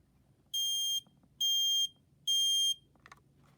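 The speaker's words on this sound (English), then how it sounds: "As you can see, it's a pretty nice alarm." A 2017 Kitty I9050 home smoke alarm sounds three loud, shrill beeps, each about half a second long with short gaps between them, followed by faint handling noise.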